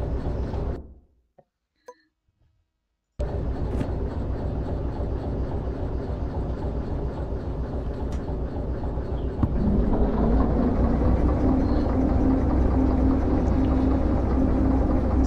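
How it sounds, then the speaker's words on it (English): A locomotive engine in Derail Valley drones steadily after a brief near-silent gap, a low rumbling hum that swells noticeably louder partway through as power increases, with no talking. "See, these trains are quite slow and you need quite a bit of power to get them going."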